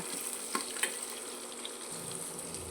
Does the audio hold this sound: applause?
no